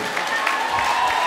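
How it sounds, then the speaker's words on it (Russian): An audience at a live event claps, a short, even patter of applause with a few sharper claps and faint crowd noise mixed in. "Давайте поаплодируем громче."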